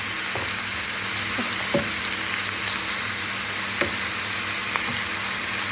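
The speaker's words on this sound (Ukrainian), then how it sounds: "А тепер обжарюватиму зажарочку." Chopped onion and grated carrot fry in a pan of lard and oil, making a steady close sizzle with occasional stirring scrapes and light clinks, with no one speaking.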